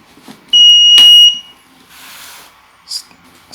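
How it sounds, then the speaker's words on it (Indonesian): A digital scale switches on with one sharp, high electronic buzzer beep lasting under a second, followed by quieter clicks and rustles nearby. "Apabila terdapat bunyi buzzer, maka menandakan bahwa timbangan digital berhasil dinyalakan"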